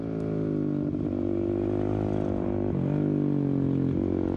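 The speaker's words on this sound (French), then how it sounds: "4 fois un quart d'heure de supermotard, une moto de cross améliorée avec des pneus pistes" Supermoto motorcycle, a motocross bike fitted with track tyres, running on a circuit: a steady, loud engine drone with harmonic whine, brief throttle dips and pick-ups around the middle and end.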